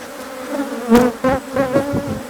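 Honeybees buzz around hives at an apiary in Togo, a dense close drone with several louder passes as individual bees fly near, steady throughout with no voices.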